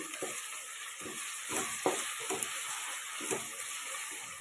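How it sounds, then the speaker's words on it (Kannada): Onions and whole spices fry in a pan for egg biryani, a steady soft sizzle broken by several sharper stirring scrapes, close by with no talk. "ಸೊ ಇನ್ನಿಷ್ಟು ಫ್ರೈ ಆದರೆ ಸಾಕು"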